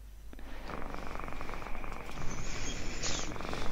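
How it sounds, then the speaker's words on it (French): Cat purring close by: a steady, rhythmic low rumble that continues throughout with no voices, with a faint high whine near the end. "On ressent le ronronnement du chat."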